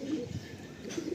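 Madrasi pigeon cooing in low, throaty rolling notes, close and steady through a short moment, with no talk over it.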